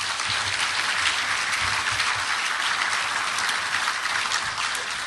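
Steady applause from a large crowd fills the space, dense clapping sustained evenly for several seconds without voices.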